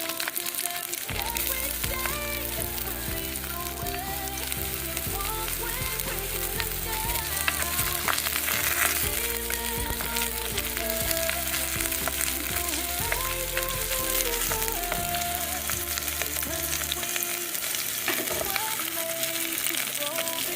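Ginger fries in a little oil for a chicken curry, giving a continuous, even sizzle that runs under steady background music from start to finish.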